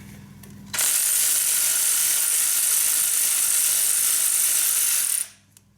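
A hand ratchet on a bolt of a dirt bike engine during an oil leak repair, one loud continuous buzzing click-run lasting about four seconds, close up, with quiet before and after.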